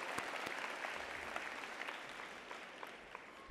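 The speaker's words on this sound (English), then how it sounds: "Let's give a round of applause for everybody." An audience at a spring university College of Education commencement gives graduates steady, sustained applause, heard fairly faint and distant as a continuous wash of many clapping hands.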